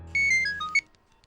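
A phone rings with a short electronic melody of bright beeping tones, loud and close, then stops abruptly and leaves quiet.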